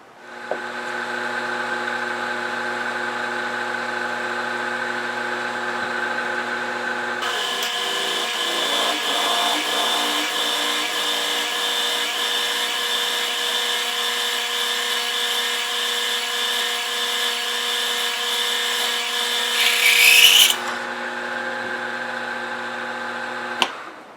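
A milling machine spot drills a mill table stop: a steady, loud motor whine with strong harmonics runs throughout, and the cutting noise thickens into a rougher, denser grind for about thirteen seconds before easing off.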